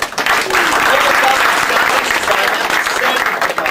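An audience at a 2009 business competition's semifinal awards ceremony breaks into dense, sustained applause, a loud and even roar of clapping with crowd voices underneath.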